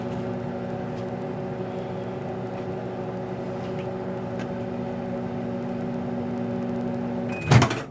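A microwave oven hums steadily with a low electric drone, then a sharp click and beep near the end as it stops.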